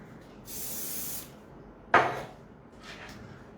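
A short burst of hair spray hisses up close, followed by a sharp click and then a fainter, briefer spray.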